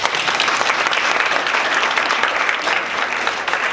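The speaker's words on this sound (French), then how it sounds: "j'aimerais qu'on les applaudisse" Loud, dense applause from an audience at a beauty awards evening honoring social media influencers, a full, steady wash of clapping throughout.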